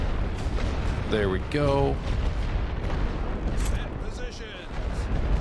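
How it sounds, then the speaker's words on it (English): Heavy artillery fire in the World War I strategy game The Great War: Western Front, a dense continuous rumble of booms and blasts with someone talking briefly over it. "I think that's probably going to be the one most beneficial for me to hit with heavy artillery."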